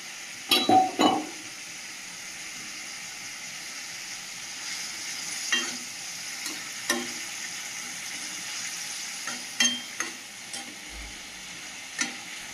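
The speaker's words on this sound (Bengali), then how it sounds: "ভেজে রাখা পুঁটি মাছগুলো দিয়ে দেবো" Fried puti fish go into a thick, simmering fish curry. A soft steady bubbling sizzle runs underneath, with a few separate spoon scrapes and clinks against the pot spaced across the stretch and no voices.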